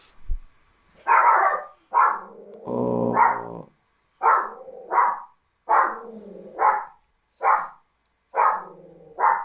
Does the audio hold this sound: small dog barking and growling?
yes